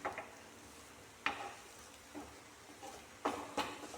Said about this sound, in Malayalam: ഇതിൻ്റെ ഒരു പച്ചച്ചവ മാറും വരെ നമുക്കിതിനൊന്ന് വഴറ്റിയെടുക്കാം